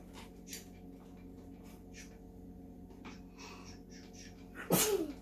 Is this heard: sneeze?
yes